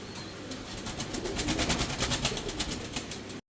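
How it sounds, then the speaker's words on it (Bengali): Fancy Mundian pigeons coo in a soft, low, rolling rhythm amid a wash of background noise, fairly faint and with no voices over them. "আপনারা দেখতে পাচ্ছেন এক পেয়ার ফেন্স মুন্ডিয়ান"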